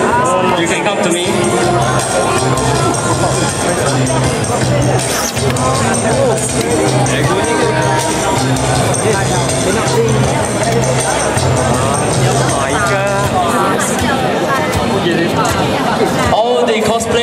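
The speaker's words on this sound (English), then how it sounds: "It's still a big crowd." A big crowd gathers around the stage at a cosplay event, a loud, steady hubbub of many voices chattering, with a voice talking over it.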